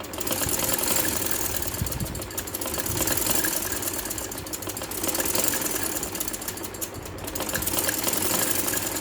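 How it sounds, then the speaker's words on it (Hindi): A sewing machine runs continuously up close, double-stitching lace onto a kameez down to the hem, with a steady motor hum and fast needle chatter and no talk. "ये इस तरह से मशीन को लेकर जाएं और ये पूरी यहाँ से लेकर दामन तक स्टिचिंग आप करें"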